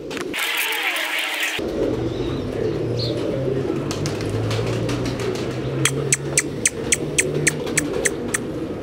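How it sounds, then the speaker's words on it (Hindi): Low, rolling coos from a Lahore pigeon fancier's pigeons run steadily through the background, with a burst of sharp clicking taps toward the end. "अच्छे कबूतर हर इंसान को पसंद आते हैं"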